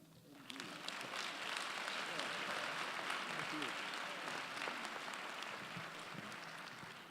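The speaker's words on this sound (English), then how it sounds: "a round of applause to all of our student scholars" Sustained audience applause at a university honors convocation for student scholars, a dense, steady clapping that swells quickly and holds for several seconds with faint voices mixed in.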